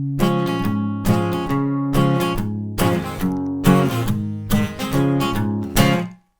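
Guitar strumming the C-based intro chords of a song, played as rhythmic bursts of strummed chords in short groups with brief gaps, close and steady, ending with a ringing chord that cuts off.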